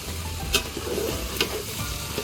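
Curry leaves sizzling in hot oil during bulk cooking of a Maharashtrian bean amti: a continuous crackling fry with a few sharp spatters and stirring scrapes, close and fairly loud.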